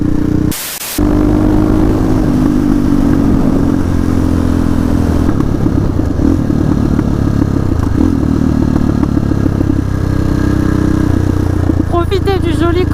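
A motorcycle being ridden at sunset, its engine droning steadily with wind noise for most of the stretch, broken by a brief dropout near the start and some clatter toward the end.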